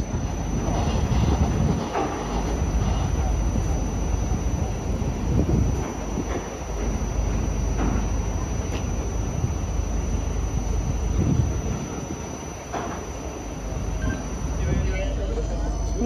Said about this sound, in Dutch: Hier bij de Zuid is het wel een af- en aankomen van treinen